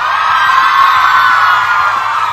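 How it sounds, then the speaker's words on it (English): A crowd of girls screams and cheers continuously at an event, a dense, loud, sustained wall of high-pitched yelling with no pauses. "all these girls here screaming for you"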